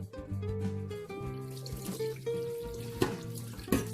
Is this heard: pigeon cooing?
no